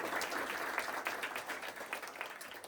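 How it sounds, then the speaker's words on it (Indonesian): An audience at an indoor company meeting claps for the franchise team, a dense steady round of applause heard from a distance that ends abruptly. "Kasih tepuk tangan untuk tim franchise semua."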